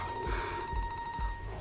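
A phone rings with an incoming call in a comedy film scene; a steady electronic ringtone with pulsing low beats repeats about three times, fairly quiet and with no talk over it.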